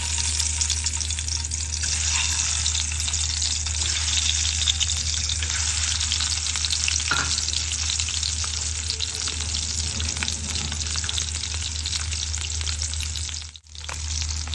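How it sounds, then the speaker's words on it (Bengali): Beaten eggs mixed with milk, turmeric and salt frying in hot oil, giving a loud continuous sizzle close by over a low steady hum, with a brief dip near the end. "এবার ডিমগুলো তেলে দিয়ে দিব"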